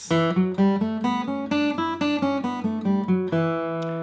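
An electric guitar plays a steady ascending then descending E Dorian scale in distinct plucked notes, close and clear, with no voices.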